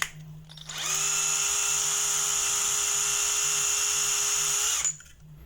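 A power drill runs steadily for about four seconds as it bores into the plastic of an ARP9 magazine, a sustained high whine with a low hum beneath, starting and stopping abruptly.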